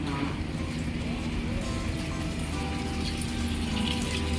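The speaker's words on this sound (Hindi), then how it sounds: "पानी भर के गिर रहा है।" Water running continuously from a tap, filling a container and spilling over during kitchen cleaning, a steady close splash and hiss with faint background noise.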